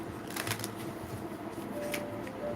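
Tarot cards being shuffled by hand, giving soft papery riffles and flutters over a steady low room hum, with no talking.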